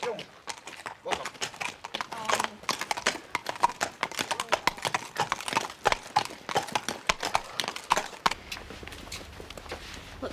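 Horse hooves clip-clop in a steady walking rhythm over a hard surface, fairly close and clear throughout, with people talking over parts of it.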